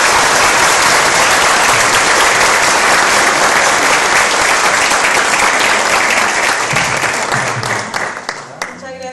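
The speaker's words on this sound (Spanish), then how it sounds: "Aquí sí que yo les pido que nos demos un aplauso colectivo por esta promesa de valor que vamos a hacer." Collective applause from a group at a corporate quality-policy value pledge, loud, dense and sustained for several seconds before thinning out into scattered claps at the end.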